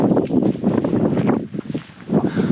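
Wind gusts over the microphone on a hike through the green Auvergne volcano country, a loud, buffeting rush that surges and dips in uneven waves, briefly easing before blowing hard again.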